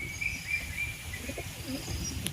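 Birds call outdoors, with thin high chirps and a few low coos over a steady background hum; the calls stay fairly faint and scattered throughout.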